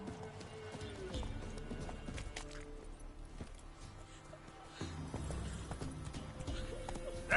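Roach, the horse in The Witcher 3, gallops with a fast, rolling clatter of hoofbeats that runs steadily throughout, moderately loud beneath game ambience and a brief neigh.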